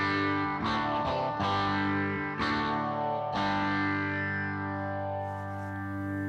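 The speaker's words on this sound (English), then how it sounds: "that's just clean with the phaser" Clean electric guitar through a phaser effect in AmpliTube 5 with a Fender cab, several strummed chords ringing out with a swirling, sweeping modulated tone, close and steady, no voice.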